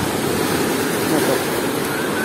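Rough storm sea at Blue Bay, Gelendzhik, with waves surging close to shore as an unbroken hissing roar, loud and near, with a small swell of intensity partway through and gusts hitting the microphone.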